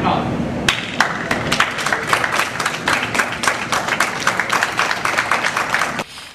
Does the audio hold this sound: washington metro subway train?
no